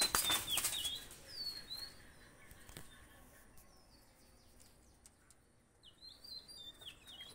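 Pakistani pigeons are released, and a loud burst of wing flapping opens the scene, followed by quieter chirps and tweets and more fluttering farther off.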